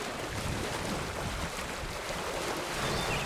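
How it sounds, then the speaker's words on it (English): Waves washing against the Eagle Lake shoreline near a dock, heard as a steady, dense broadband rush with constant wind noise on the microphone, no voices. "You can hear the waves coming in, they're just crashing."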